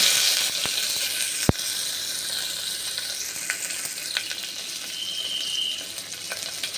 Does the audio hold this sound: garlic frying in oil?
yes